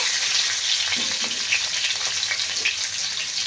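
Chopped onions fry in hot oil in a pan for a village-style taro leaf mash, giving a loud, dense, continuous sizzle with faint stirring beneath.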